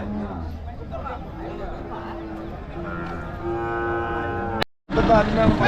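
Bulls at a rain-affected cattle market in Uthangarai, with a drawn-out bovine moo and lowing rising over steady crowd babble and market noise, a brief cut near the end before the bustle resumes.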